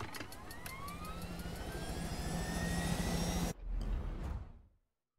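Helicopter in Far Cry: New Dawn: a steady, loud engine whine with a rising tone that builds over several seconds, then breaks off abruptly, returns briefly and fades to silence.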